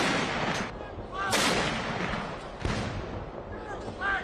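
Artillery guns fire a 17-gun salute at General Bipin Rawat's military funeral, heavy booming reports landing at irregular intervals outdoors amid crowd murmur and a faint voice or two.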